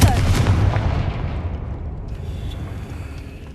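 The Confringo explosive spell in Hogwarts Legacy fires with a loud, close blast, and its rumbling boom fades away over a few seconds.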